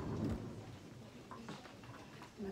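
Low rumbling thunder rolls through a heavy storm, loudest at the start and fading into a steady wash of rain, with no voices over it.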